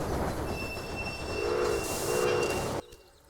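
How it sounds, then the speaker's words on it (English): A train passes in the video game Railway Empire, a loud rumbling rolling of rail cars with squealing wheels and a high whine, swelling then cutting off abruptly near the end. "It'll stop to let this sugar train pass."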